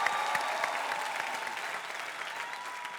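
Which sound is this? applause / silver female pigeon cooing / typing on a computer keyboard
applause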